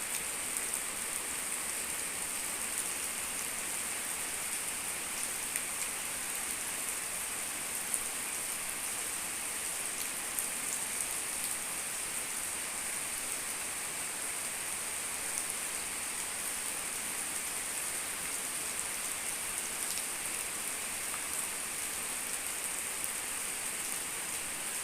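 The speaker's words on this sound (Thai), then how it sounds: "ฝนตก" Steady light rain falls without pause, a dense even hiss of drops on surfaces that holds at the same level throughout.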